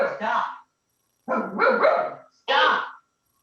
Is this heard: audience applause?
no